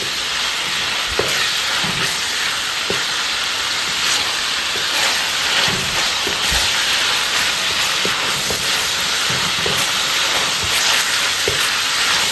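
Shallots and garlic frying in a pan make a steady, loud sizzle and hiss throughout, with faint scattered clicks of stirring. No voices.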